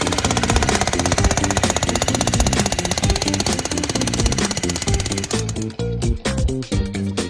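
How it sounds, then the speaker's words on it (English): A heavy jackhammer pounds concrete in a rapid, steady stream of loud, close impacts, breaking into shorter uneven bursts toward the end. "This jackhammer's pretty heavy"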